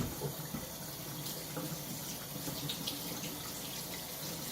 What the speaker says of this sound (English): I'm just going to go ahead and rinse this off.